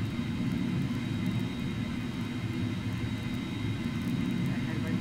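A video-game Fokker 100 airliner tries to take off, its jet engines giving a steady, loud, unbroken roar with a broad rumble and a high whine for the whole stretch. No speech is heard.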